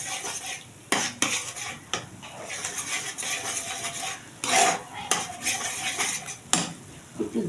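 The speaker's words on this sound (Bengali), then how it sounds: "এরকম নাড়তে নাড়তে একদম যখন শুকিয়ে আসবে তখন নামাবেন" Pointed gourd mash stirred in a pan until dry, with repeated metallic clanks and scrapes of a spatula against the pan over a soft sizzle, close and fairly loud.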